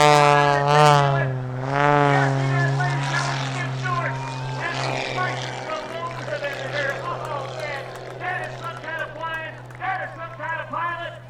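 A specially modified Pitts aerobatic propeller plane flies knife edge at an air show, its engine droning loud and steady with a rising then falling pitch as it passes, while an announcer talks over it.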